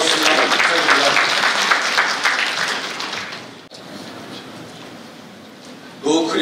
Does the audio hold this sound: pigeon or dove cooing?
no